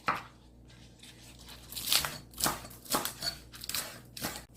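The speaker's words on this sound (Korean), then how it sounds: "이렇게 해서 어슷어슷하게 좀 썰어주시고" A knife cuts Spam slices at an angle on a board in a home kitchen, with a handful of crisp, separate strokes at an uneven, unhurried pace, close and fairly quiet.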